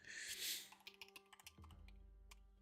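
Fingers type on a computer keyboard in a quick irregular run of faint clicking keystrokes, following a brief rustling noise, quiet and close, with no talk.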